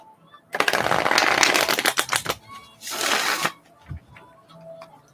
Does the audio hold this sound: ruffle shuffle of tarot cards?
yes